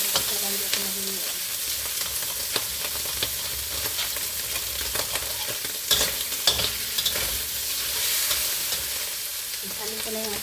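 Fried rice with fresh prawns and eggs stir-frying in a hot pan, a steady loud sizzle broken by scraping stirs and occasional clatter, close up, with no talking.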